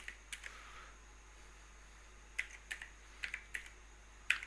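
Keys on a computer keyboard clack in scattered, uneven bursts of a few taps each, close and fairly quiet against a faint steady hum, with no talking.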